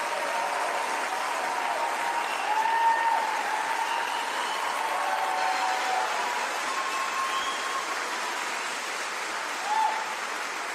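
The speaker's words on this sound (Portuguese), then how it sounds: "A plateia aplaude veementemente, escutamos assobios, escutamos gritos de encorajamento." A crowd at a vigil applauds steadily for Tulsi Gabbard, with sustained clapping, occasional whistles and cheers carrying through the hall.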